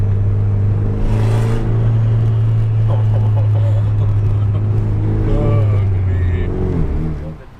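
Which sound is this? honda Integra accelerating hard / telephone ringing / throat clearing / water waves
honda Integra accelerating hard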